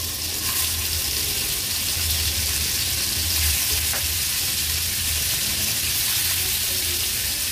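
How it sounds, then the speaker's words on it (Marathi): Squid pieces frying in hot oil in a pan over a low gas flame, a steady close sizzle and crackle that holds evenly throughout with faint clatter, no talking. "तेल पण छान गरम झालं आहे। गॅसची फ्लेम मी लो करून घेतली आणि ह्या पॅन मध्ये ह्या माकळ्या सोडते।"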